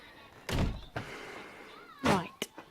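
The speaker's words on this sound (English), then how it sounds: "I'm just shutting the back door." A back door swung shut in a house, giving a couple of dull thunks and a soft latch knock, fairly quiet and close, with faint background noise between.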